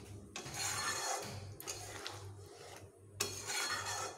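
Rohu fish kalia curry being stirred into its gravy in a pan, with quiet intermittent scraping and rubbing of a utensil against the pan in several short bursts.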